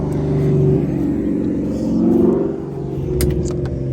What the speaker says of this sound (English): had a Mustang driving by making all kinds of noise